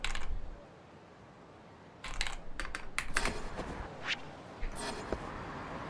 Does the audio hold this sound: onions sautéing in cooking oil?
no